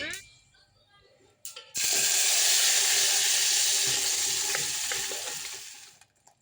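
Ground coconut paste blended with onion, cumin, green chilli and turmeric is poured into a curry and stirred, giving a loud, steady sizzle and scraping after a quieter opening with brief knocks, fading slightly near the end.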